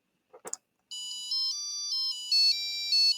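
A Databot robot plays a coded melody of electronic beeps at 300 beats per minute, a brisk run of sustained tones stepping up and down in pitch, loud and close after a brief soft knock, with no talking.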